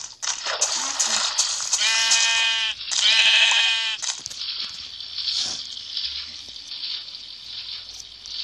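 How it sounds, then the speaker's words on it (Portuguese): Sheep bleating in the Minecraft video game, several loud, close wavering bleats in quick succession, followed by a steady hiss of flowing water with no talking. "Também vou matar essa ovelha aqui."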